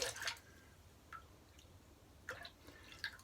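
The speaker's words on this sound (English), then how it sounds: "Just wet the brush." A shaving brush is wetted with water at a sink, giving faint, close dripping and squishy splashes in short bursts over a quiet hiss.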